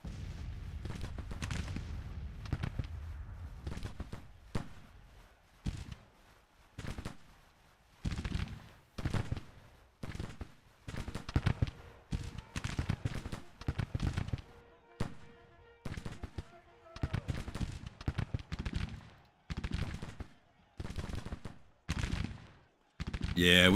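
Civil War musket fire in the strategy game Grand Tactician: The Civil War, long-range volleys popping in irregular bursts and scattered cracks, fairly distant, repeating throughout with brief gaps.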